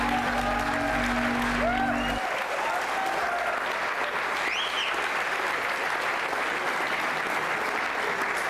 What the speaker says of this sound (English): They're clapping now